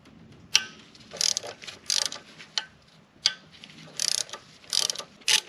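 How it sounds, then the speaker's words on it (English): Bolts being removed by hand from a 2.0 FSI turbo engine on a 2005-08 Audi A4 B7, giving several short bursts of ratchet clicking with quiet pauses between, close and alone. "Now I'm going to take out the bolt here and the one here."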